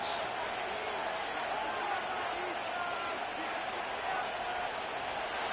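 Stadium crowd noise in an EA Sports NFL football video game, a steady, dense roar of many voices building on third down, even and continuous throughout with murmured speech mixed in.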